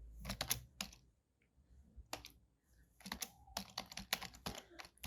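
JavaScript code being typed on a computer keyboard: close, crisp key clicks come in quick clusters separated by brief quiet gaps, with no voices.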